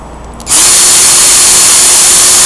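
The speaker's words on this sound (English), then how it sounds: "You put it in the hole and you start drilling." A drill spinning a coarse sanding disc on a mandrel with a pilot, stripping paint, rust and scale from a metal surface, starts abruptly after a short quiet moment and then runs as a loud, steady, gritty whine.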